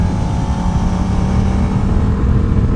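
A Suzuki SV650X V-twin engine revving, close and loud with a steady buzzing drone and slight pulsing, and no voice over it.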